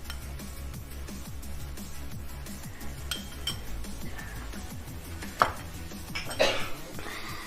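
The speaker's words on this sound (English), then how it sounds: "Now I'm just going to mix it, let it fry." One-pot pasta loaded with vegetables and four tablespoons of ketchup is stirred in a pot, with close clinks and scrapes of a utensil against the metal and faint sizzling underneath, topped by a couple of louder knocks near the end.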